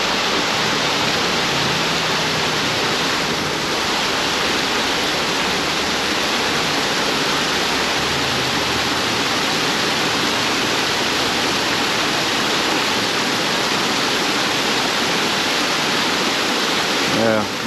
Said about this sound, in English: right where that waterfall comes in.